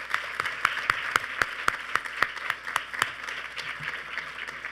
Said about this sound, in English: Can we give our panelists a huge round of applause?